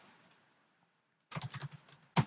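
Typing on a computer keyboard, a short quick burst of close key clicks after a near-silent pause, ending in one louder keystroke.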